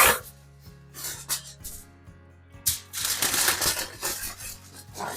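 Potatoes being wrapped in heavy duty aluminum foil for grilling, heard as close crinkling and rustling that comes in bursts, quiets briefly in the middle, then grows louder and denser toward the end.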